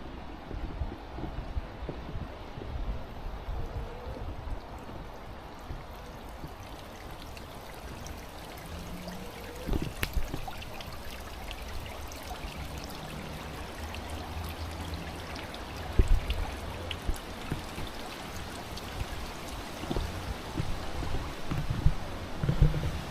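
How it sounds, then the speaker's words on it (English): A slow trickle of water runs down a waterfall beside a lakeside staircase in Chisinau, Moldova, heard as a faint, continuous wash with light wind noise and occasional soft knocks. "A slow trickle of water."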